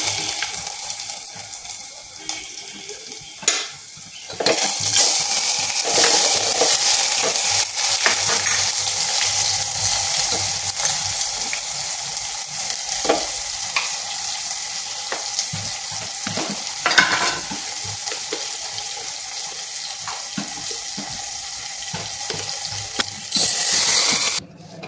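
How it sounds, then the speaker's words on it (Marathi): Mustard seeds and spices tempering in hot oil, crackling and sizzling steadily in a pan close by, with scattered sharp pops and occasional clinks of a utensil throughout. "तेल चांगलं तापलं कसं ओळखायचं, थोडीशी मोहरी टाकून बघायची, तडतडली की नाही तेल आपलं चांगलं तापलं म्हणायचं"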